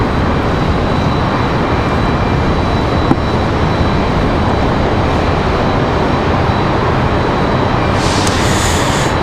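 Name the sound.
Frontier airliner departing Raleigh-Durham for Orlando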